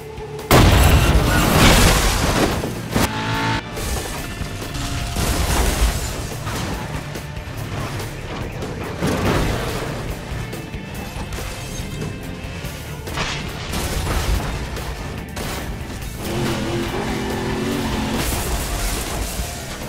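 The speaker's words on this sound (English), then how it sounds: "I absolutely love the slow motion impact" Cars smash together in Burnout Paradise, with loud booming impacts, crunching metal and debris clatter repeating across the stretch, one heavy hit near the start followed by further crashes and engine noise.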